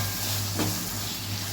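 Onions, tomatoes and green chillies sizzling and frying in a pan, a steady close hiss with a brief stir in the middle.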